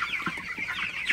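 Broiler chickens in a poultry house cluck and call in short, overlapping bursts, close and fairly loud, with no talking.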